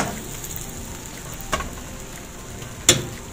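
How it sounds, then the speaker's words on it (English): A soft pancake fries in a pan with a little oil, a steady close sizzle broken by two brief louder clicks or scrapes, with no talking. "we are going to turn our pancake the other side"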